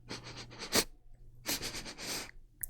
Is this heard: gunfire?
no